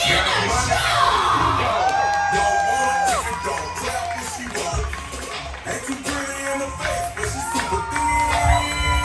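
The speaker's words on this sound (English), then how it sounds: "So you guys put your hands together and start clapping it up for Robin Diana Shaw!" A comedy club audience cheers, whoops and shouts loudly as a comedian is introduced, crowd noise dense and continuous throughout with some clapping mixed into the roar.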